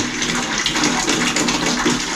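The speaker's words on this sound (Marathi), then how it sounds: "गरम पाणी असेल काढून घेतो सगळं" Hot water gushes steadily from a geyser tap at home, a continuous close, loud broadband rush with no pauses.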